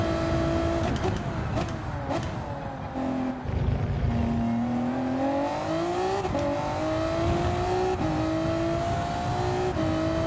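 A racing car engine in a video game whines and revs continuously, its pitch rising and falling through gear shifts, with a voice talking over it.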